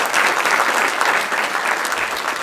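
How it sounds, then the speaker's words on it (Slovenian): Dense, steady audience applause at a celebration of the Brežice karate club's 40th anniversary, many hands clapping at once in an even wash of sound, loud and unbroken for the short stretch. "bi prosil za en poseben aplavz za njega"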